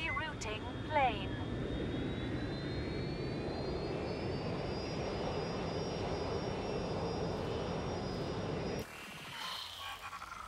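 Steady jet airliner engine roar from the video game Watch Dogs: Legion, a broad continuous drone with a rising whine, cutting off abruptly near the end; a voice talks over it.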